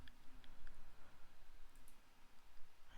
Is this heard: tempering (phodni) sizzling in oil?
no